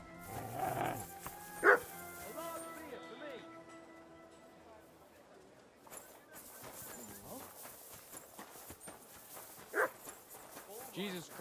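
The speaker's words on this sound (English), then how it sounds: "What's with that barking?" Dogs barking in the medieval video game Kingdom Come: Deliverance 2, a few yips and barks at moderate distance, mixed with horse hoofbeats and other game sounds while a person talks over it.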